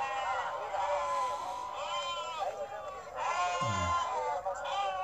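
Goats bleat in a busy livestock market where fat goats are being sold, with overlapping cries standing out from loud, continuous crowd chatter and movement.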